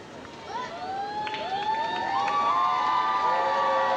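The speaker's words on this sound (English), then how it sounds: "The crowd don't like it, only in thirds" A gymnastics arena crowd at the 1993 World Championships reacts to a score with rising whistles and jeers, a sustained loud wave of disapproving noise swelling over a few seconds.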